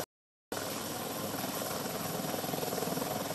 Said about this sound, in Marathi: आता या तरुणांच्या रेस्क्यू करण्यासाठी त्यांच्या बचाव कार्यासाठी हेलिकॉप्टर जे आहे ते आलेलं आहे